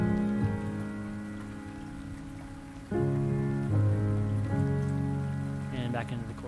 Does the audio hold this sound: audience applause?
no